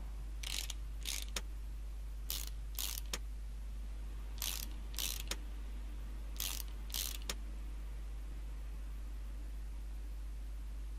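A ratchet tightens the screws on a timing belt cover in Car Mechanic Simulator 2018, repeated crisp clicking bursts in pairs and triples over a steady low hum.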